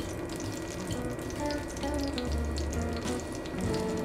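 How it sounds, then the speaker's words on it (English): Vegan eggplant meatballs sauté in olive oil in a pan over medium heat, a soft, steady crackling sizzle with light popping, fairly quiet and close, without any speech. "So our pan is on medium, and we're just gonna start sauteing them until they are absolutely perfect."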